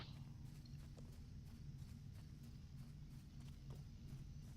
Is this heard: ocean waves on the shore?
no